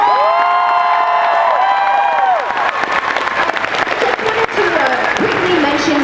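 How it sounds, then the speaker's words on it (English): A convention panel audience at Planet Comicon in Kansas City bursts into loud, sustained applause and cheering with whoops, while a voice is heard over the clapping at first. "one more round of applause."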